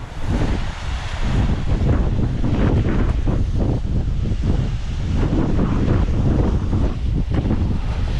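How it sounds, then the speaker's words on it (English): Strong wind gusts roar past a waterfall at Hell's Gill beck, a loud, continuous rushing buffet with surging swells and no voices. "See the wind blowing the water upwards."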